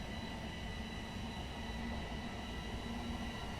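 A Thameslink train rumbles steadily along in Train Simulator Classic, a continuous low drone of wheels and motors with a faint tonal hum running through it, loud and close with no break.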